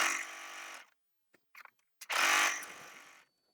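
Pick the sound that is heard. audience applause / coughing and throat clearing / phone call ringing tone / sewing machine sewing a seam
sewing machine sewing a seam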